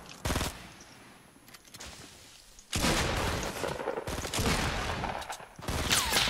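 Loud bursts of automatic gunfire in a shooter video game, dense rapid volleys separated by short quieter gaps, close and continuous with occasional faint voice underneath.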